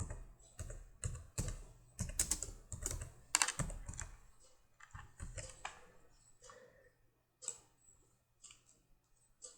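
Rapid bursts of keyboard typing while writing Java code, crisp close key taps in clustered runs, thinning out to sparse isolated keystrokes toward the end, no voices.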